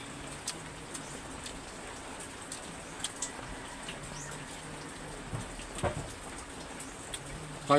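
Rain falls steadily outdoors, a soft even hiss with scattered louder drops tapping on a nearby surface, fairly quiet throughout.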